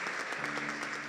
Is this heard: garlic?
no